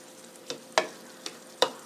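A spoon scrapes and stirs through tofu in meat sauce in a pan after a cup of water has been added, four short wet strokes at uneven intervals, close and fairly quiet.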